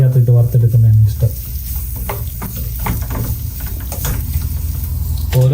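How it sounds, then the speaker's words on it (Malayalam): Ghee sizzles steadily in a pan while cooking for chicken biryani, with a constant close crackle and the occasional scrape of stirring. A voice is briefly heard at the start. "എനിക്ക് നെയ്ക്കകത്തിട്ട് വറുത്തെടുക്കുന്നതാണ് ഇഷ്ടം"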